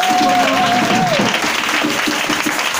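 A congregation applauds loudly and steadily throughout at an Easter 2021 church service, a dense wash of clapping with a voice briefly speaking over the start.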